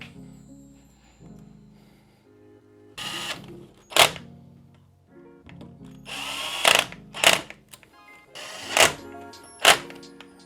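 A power drill or driver whirs in several short bursts, driving short M4 screws into a gear drive mount on a Meepo MLR raceboard, with quiet motor hum and small clicks between runs.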